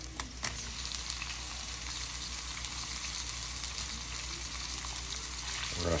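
Shrimp sizzling in a hot pan with garlic, a steady broadband hiss of frying that holds throughout, with a brief clatter near the start.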